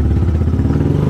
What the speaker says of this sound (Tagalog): Mainit na yung makina ni Mia.